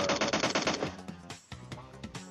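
Rapid automatic gunfire in the game PUBG Mobile: a fast close burst of shots, then a short gap and further uneven shots, loud and sharp with no talk over them.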